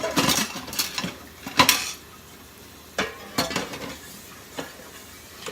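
Plates, cutlery and pots clatter and clink in a kitchen after a pasta meal, a burst of sharp knocks early on, then scattered separate clanks with quiet gaps between, close by and with no voices.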